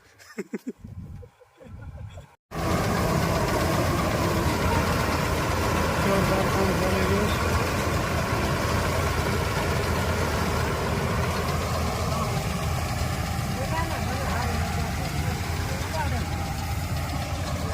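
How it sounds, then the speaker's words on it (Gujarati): A combine harvester engine roars steadily and loudly while harvesting wheat, after a brief quieter opening, a continuous rumbling drone that holds without a break. "હાર્વેસ્ટર ચાલી રહ્યું છે"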